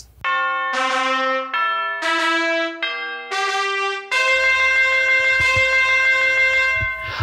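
Sequence of ringing bell tones, several struck notes in succession each sustaining briefly, then a longer, fuller chime with rich overtones ringing out loudly and steadily.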